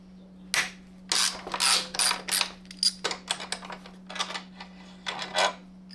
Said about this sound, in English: now we're going to remove this 12mm bolt from the back of the gas tank